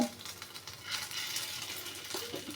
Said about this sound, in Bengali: আমি এখন ভাজছি